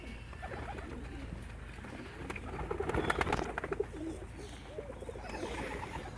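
A loft of pigeons, including a few large birds, coo repeatedly at close range, soft rolling calls layered over one another against a steady background hum, with some fluttering and chirps.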